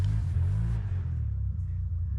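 A Can-Am Renegade ATV engine opens up on the throttle, a loud, deep rumble that rises briefly and then settles into a steady drone.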